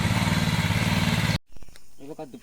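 A tractor engine chugs in a rhythmic, fairly loud drone while working a paddy field at the start of rice sowing in Kumbhavade, Rajapur. It cuts off abruptly and a voice follows.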